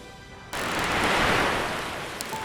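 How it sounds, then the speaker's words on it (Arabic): Stormy sea waves surge against a ship, starting as a faint hiss and then swelling abruptly into a loud, steady rushing roar that slowly eases. "كانت أمواج البحر تدفع السفينة نحوها كأنما تجذبها قوة خفية"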